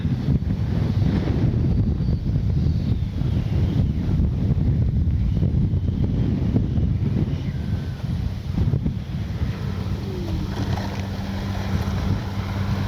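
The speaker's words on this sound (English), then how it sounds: "It's way too windy to be flying anything." Strong wind at a model jet flying field roars and buffets the microphone in a steady, loud rush throughout, with no voices.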